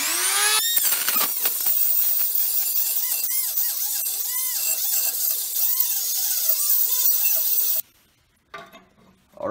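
A cutting tool slices into the inner race of a wheel bearing still on the spindle, working a little at a time. It makes a loud continuous screeching grind with warbling squeals for about eight seconds, then stops abruptly, leaving faint clatter.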